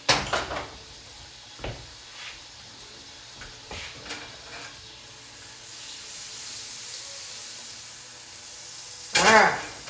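Steaks sizzle steadily in a pan during keto meal prep, a continuous frying hiss with a few soft knocks and clatters, ending in a louder burst of spitting.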